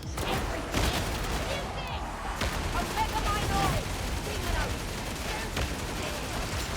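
Rapid continuous gunfire in the Warhammer 40,000: Darktide video game during a Havoc 40 mission against a demon host, dense overlapping shots and impacts with scattered voices and game effects underneath.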